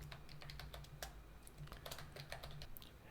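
Quick keystrokes on a computer keyboard while a sudo reboot command is entered, a close, soft run of irregular clicks with short pauses and no voices.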